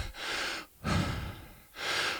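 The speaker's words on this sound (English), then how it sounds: "Oh, look at me, heavy breathing." Heavy, loud breathing from someone resting after a home workout session: three deep, rhythmic breaths with short pauses between, close and alone.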